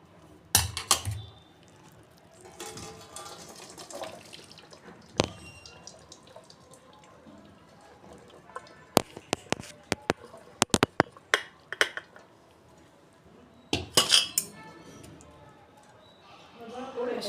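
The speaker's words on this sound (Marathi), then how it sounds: "वरती चाळण घेऊन त्यात आता मी ही डाळ ओतून घेणार आहे" Boiled chana dal is tipped into a strainer set over a kadhai. Cooking water drips and trickles through, broken by sharp clinks and taps of metal utensils, close and moderately loud.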